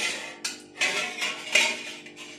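A metal pan lid clinks against a spatula while a pan of wholemeal flour and jaggery cake is uncovered on a low flame: a few short, bright metallic knocks close by.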